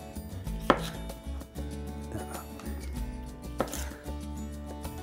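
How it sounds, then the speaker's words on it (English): A kitchen knife cuts into an avocado down to the seed, producing soft repeated thuds and scrapes against a board over a steady low background hum, with no talking. "Now avocado, slice into that seed there."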